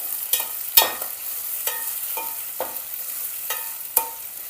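Curry leaves and vegetables fry in oil for vegetable upma: a continuous close sizzle punctuated by several distinct stirring strokes of a spoon against the pan.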